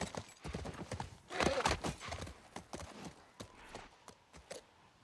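Horse hooves clip-clopping at a walking pace in The Last of Us Part 1, with a short whinny; the irregular hoofbeats sound close and fairly clear over light ambient game sound.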